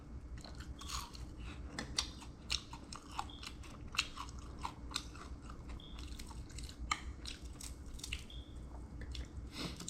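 Close, crunchy chewing of crisp food, including a fish head, with irregular bites and wet squishes repeating steadily; there is no talk during it.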